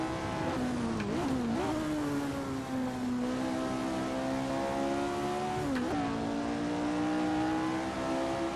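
Lotus 49 racing car at Brands Hatch in Assetto Corsa, a loud steady engine drone with quick pitch dips and blips as it downshifts, alone without voices.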